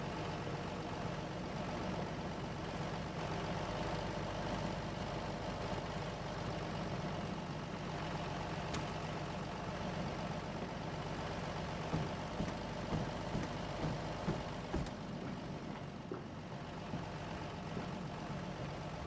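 A truck engine idles steadily in the horror game Amnesia, a low continuous rumble with a few faint knocks near the end and no talking over it.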